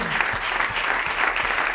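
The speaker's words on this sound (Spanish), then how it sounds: "¿Puede darle un aplauso al Señor?" Steady applause from a congregation at a church service, dense clapping filling the whole moment without pause, fairly loud and close.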